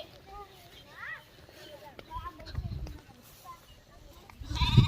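Farm sheep bleating in a rural village, a few short wavering bleats early on, followed by rustling, footsteps and handling noises that grow louder toward the end, with voices nearby.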